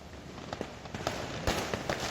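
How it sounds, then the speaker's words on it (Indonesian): Firecrackers and fireworks set off along a street in Timika, heard as a series of distant scattered pops and bangs over a busy outdoor background. "Sepanjang jalan Timika dipadati warga yang memasang petasan dan kembang api"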